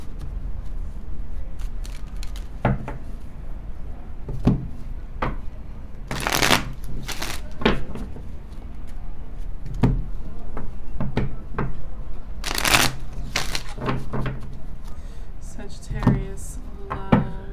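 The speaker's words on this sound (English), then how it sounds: "Let's do a few shuffles for you." Tarot cards are shuffled in a series of crisp riffling bursts and soft taps against a table, repeated rhythmically at close range with a voice speaking intermittently between shuffles.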